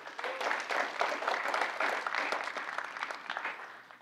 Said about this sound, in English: let's give yourselves a round of applause for being here